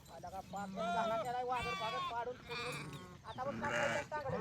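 Sheep bleat repeatedly in wavering, nasal calls that overlap one another, with a person talking underneath throughout.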